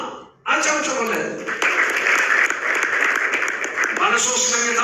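An audience in a hall applauds the winner of a three-bedroom house in a lottery draw, a sustained, dense wash of clapping that starts suddenly and carries on while an announcer talks over it.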